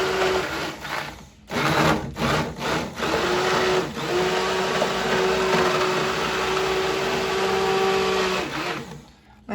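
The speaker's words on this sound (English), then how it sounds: "this is my immersion blender. It's nothing too fancy. Might get a little loud." An immersion blender with a blade attachment blends red pasta sauce. It starts with a few stuttering pulses, then settles into a steady, loud motor whir that continues for several seconds.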